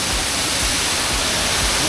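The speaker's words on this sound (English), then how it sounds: "This is kind of cool, being inside the waterfall." Broadband rushing roar of a waterfall heard from inside it at a bird park in Kuala Lumpur, steady and close with no break, no voices over it.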